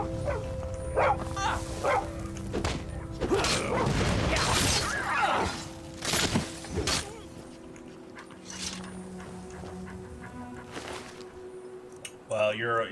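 Dogs being punched in the video game Skyrim, with yelps, whimpers and sharp impact hits in busy bursts over game noise, fading to a quieter stretch, while a person talks over it.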